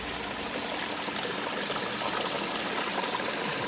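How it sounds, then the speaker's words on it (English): A small garden pond waterfall splashing steadily, a close, continuous rush of falling water with no pauses and no voices. "You can see our waterfall is doing good."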